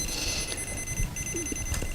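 An electronic detector beeps in a ham radio setting, its repeated tones faint and steady over a noisy background hum with no talking.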